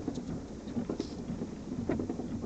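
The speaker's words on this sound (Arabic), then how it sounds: "امطار على الرياض ما هي حياة مطر" Rain falls over Riyadh as a steady, soft hiss of drops with scattered brief patters and thuds, heard alone outdoors at a low level.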